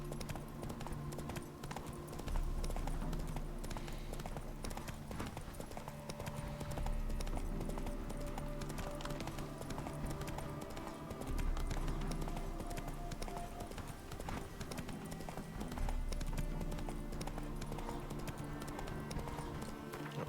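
Steady horse hoofbeats clip-clop in a continuous rhythm in The Witcher 3 video game, over a dense background of music and ambience, with occasional faint voices.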